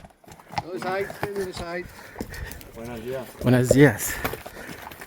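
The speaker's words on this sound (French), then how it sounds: "un cavalier et ses chevaux" Horses with a rider passing on a trail near the village of Faba on the Camino route, faint hoof clops under close speech and a greeting, swelling briefly as they come by.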